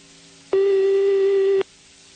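A single steady electronic ringing tone from a telephone line during a prank call, about one second long, clear and alone against a quiet background.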